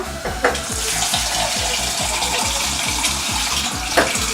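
Water runs steadily from a tap into a soup pot, about a litre, a continuous splashing gush with a couple of brief clinks, close and fairly loud.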